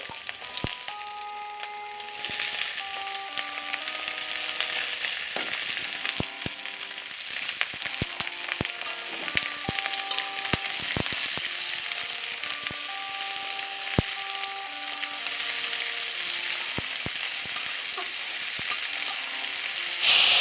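Chopped wild cardamom shoots sizzle steadily in a hot pan for an Assamese home-style dish, a dense, continuous hiss with crackles and soft clicks, faint melodic tones running underneath and no talking.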